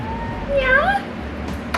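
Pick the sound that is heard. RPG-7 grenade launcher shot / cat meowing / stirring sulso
cat meowing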